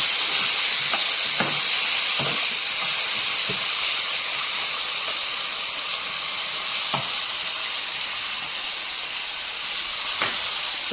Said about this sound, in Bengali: এবার আলুগুলো দিয়ে দিলাম ফোড়নের মধ্যে।